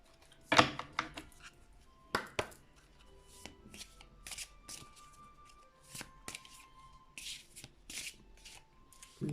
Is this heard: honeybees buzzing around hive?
no